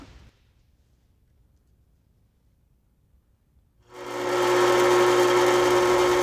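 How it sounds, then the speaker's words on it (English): After a few seconds of near silence, a power drill spins up and runs steadily, drilling 1/8 inch flat metal stock, loud and close, with a sustained whining hum. "Drill."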